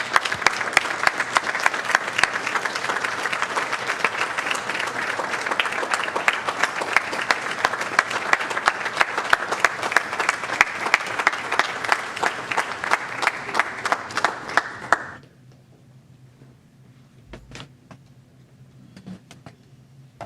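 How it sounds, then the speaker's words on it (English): Audience at a Board of Education meeting gives a long, hearty round of applause welcoming a retiree, steady dense clapping for about fifteen seconds before cutting off to near silence with a faint hum and a stray knock. "would you all join me in a hearty round of applause in welcoming Mrs."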